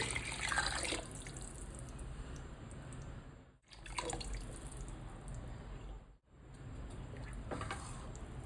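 Water runs steadily into a pot of rice being readied for Dindigul thalpakatti chicken biryani, a continuous splashing pour that stops briefly twice, with no one talking.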